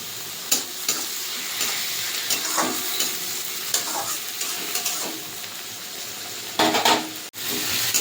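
Chopped onion and tomato fry in a pan for a fish curry, a steady loud sizzle broken by repeated scraping stirs and a few clinks of a utensil against the pan.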